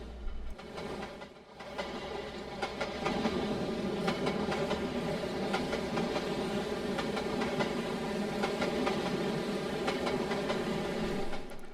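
Simulated freight train in Trainz, led by a Dash 9 with a Union Pacific SD70ACE third out, struggles up Lance Hill: a loud, continuous diesel rumble with rhythmic wheel clicks and rattling cars, steady throughout.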